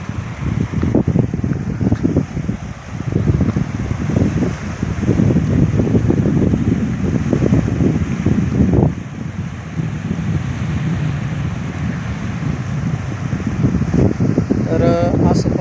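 Outdoor riverside water with steady wind buffeting the microphone, a continuous rushing wash with gusty low rumble throughout, beside a river where old Hanuman idols have been left in the water; someone talks over it.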